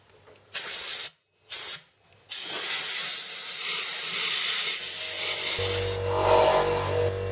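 A workshop air compressor hisses loudly in bursts, first two short blasts with gaps, then a continuous spray-like rush that shifts into a lower motor hum near the end, with no speech.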